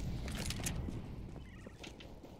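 A chicken clucking in the CS:GO video game, faint bird calls sitting over a rumbling, noisy background that fades slightly toward the end.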